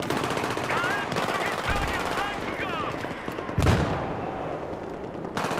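Dense, continuous automatic gunfire from friendly troops in the video game Battlefield 3, a steady rattling barrage throughout with a sharper burst partway through, with faint voices underneath.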